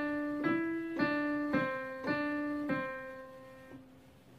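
Piano playing bars 5 and 6 of a song as a beginner melody, six clear single notes struck at an even, unhurried pace, each ringing and decaying before the next.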